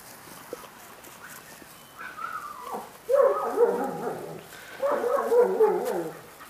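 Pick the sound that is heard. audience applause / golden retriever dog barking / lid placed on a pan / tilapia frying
golden retriever dog barking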